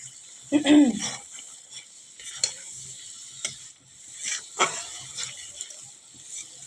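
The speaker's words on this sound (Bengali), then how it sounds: "দেখো তেল ছাড়ছে, মশলাটা দেখো ভাজা হয়ে গেছে।" Mustard masala frying in oil for shorshe ilish, heard as quiet crackling and occasional scraping stir strokes, with a short low muffled knock near the start and otherwise fairly soft, sparse activity.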